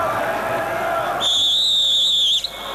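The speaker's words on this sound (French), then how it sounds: "Eh bien, Michel Vautreau a sifflé" A referee's whistle at a Nantes versus Brest football match gives one long, loud, shrill blast that follows a stretch of crowd noise and then cuts off sharply.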